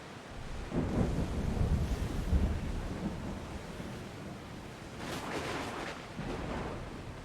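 Stormy seas in a video game, with a ship caught in a water storm: rain and wind wash over surging waves, with deep rumbles rising early on and fainter gusts later, fairly quiet and without voices.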